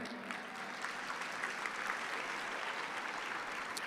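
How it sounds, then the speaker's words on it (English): An audience at a charity benefit event applauds steadily, a full wash of clapping hands that holds evenly throughout. "Everybody, please round of applause for Renee."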